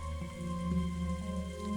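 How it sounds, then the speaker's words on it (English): Steady rain from a visual novel video game, a continuous soft patter and hiss at low level that holds evenly throughout, with no talk. "Or perhaps the sound of the rain was making her sentimental."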